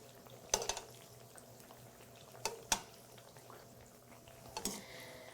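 Hot, smoking fried plantains being drained of their oil: a few sharp clinks and scrapes of utensils against a pan and drainer over a faint, steady hiss, with quiet gaps between the bursts.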